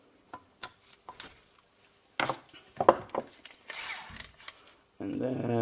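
A screwdriver loosens the solenoid valve screws on a DSG6 mechatronic unit. Small metallic clicks and scrapes come in irregular bursts, close by, ending in a longer rasping stretch.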